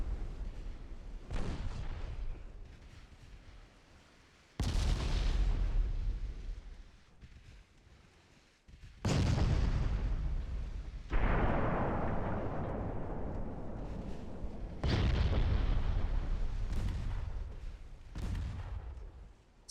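Naval guns on Japanese warships firing in Ultimate Admiral Dreadnoughts: about five heavy, booming salvos spaced several seconds apart, each with a long rolling rumble that fades before the next, and no talking.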